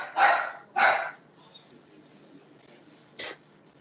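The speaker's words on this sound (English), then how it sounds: "Is that Simon's dog?" During a planning committee meeting, a dog gives two quick, fairly loud barks close together. After a pause, a third shorter bark follows in a quiet room.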